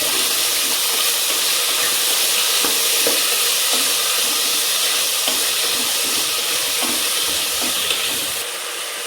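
Curry leaves and tomato sizzle hard in hot oil in a pan, a steady loud hiss with faint scraping taps of a spoon as the mixture is stirred, no voices.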